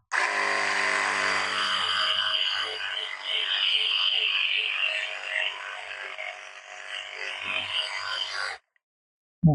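A Vitals Am 1830n cordless pressure washer runs while spraying foam through its foam nozzle attachment, a steady close motor hum with hissing spray for about eight seconds, then it stops abruptly.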